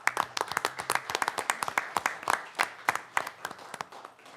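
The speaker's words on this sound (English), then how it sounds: "Again, a round of applause." Scattered, distinct hand claps from a small audience at a city council meeting, sharp individual slaps in an uneven rhythm for several seconds, fairly quiet and not blending into full applause.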